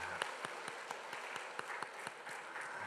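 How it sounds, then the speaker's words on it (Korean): Quiet, distant clapping from a church congregation during a Sunday sermon, a thin, steady patter of hands that stays faint throughout. "우리 박수 한번 할까요?"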